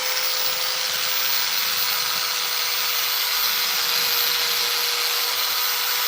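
A power sander works steadily on chainsaw-carved wood, giving a loud, unbroken high-pitched whirring hiss with a faint whine and no breaks across the whole stretch.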